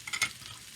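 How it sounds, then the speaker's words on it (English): Sliced mushrooms sautéing in a pan give a short burst of close sizzling and stirring scrapes that quickly settles into a softer hiss. "Now I am going to add my mushrooms that I've sliced up. And we're going to get those sauteed."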